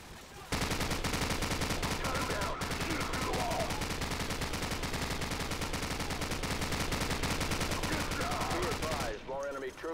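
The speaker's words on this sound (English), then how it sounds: "Jackson, use their machine gun." Machine gun fire in Call of Duty 4: a loud, continuous rapid burst of shots with a dense, rattling rhythm that runs nearly ten seconds before cutting off.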